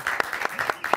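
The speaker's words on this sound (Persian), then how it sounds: "تشویق کنیم" An audience claps in a talk-show studio: brief, dense applause with sharp rhythmic hand claps, loud and close, with no voices over it.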